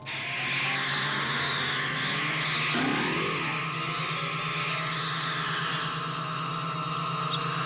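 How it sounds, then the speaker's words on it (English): Helicopter-style whir of a gadget copter lifting off in a video game, a steady droning engine with a rising swoop midway, loud and continuous with no talk. "Go, go, gadget copter!"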